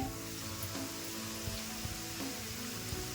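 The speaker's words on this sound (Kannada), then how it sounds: "ಇವಾಗ ಟೊಮೆಟೊನ ಸಣ್ಣ ಕಟ್ ಮಾಡಿ ಇಟ್ಕೊಂಡಿದ್ದೀನಿ, ಅದನ್ನು ಹಾಕೊಂತಾ ಇದ್ದೀನಿ." Chopped tomato dropped into a pan with ginger garlic paste, frying while being added; a soft, continuous sizzle with a few light clinks and stirring knocks, quiet and close, no speech.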